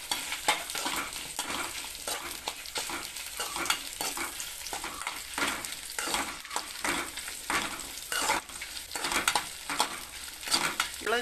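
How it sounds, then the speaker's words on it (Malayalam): Shallots and chillies roast in a little oil in a pan, giving a steady, close sizzle with frequent stirring scrapes and clinks throughout, no voices. "ഇത്തിരി എണ്ണയ്ക്കകത്ത് ഒന്ന് മൂപ്പിച്ചെടുക്കാം. രണ്ടും കൂടി അങ്ങ് ഇട്ട് ചെയ്ത് ചെറുതായിട്ടൊന്ന് ചൂടാക്കിയെടുക്കാം."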